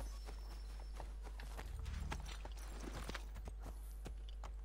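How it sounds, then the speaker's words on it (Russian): Horses in the video game Assassin's Creed 3 clip-clop along in a soft, irregular walking rhythm, faint and close, with a low steady rumble underneath and no talk. "Лошади, ну-ка, идите сюда."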